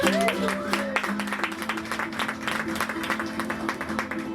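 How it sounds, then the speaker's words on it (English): Passengers on a Wailua River tour boat clap for the captain in a lively round of applause that starts after a brief spoken bit and continues with scattered close claps. "Give him a big round of applause."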